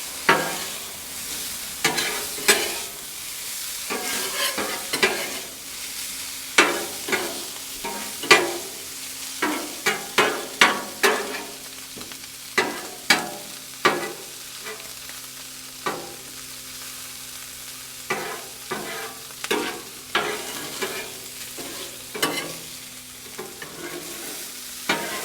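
Steak and peppers for a cheesesteak sizzling on a Blackstone griddle, a steady close frying hiss broken by frequent sharp metallic spatula scrapes and taps in an uneven rhythm, with no talking.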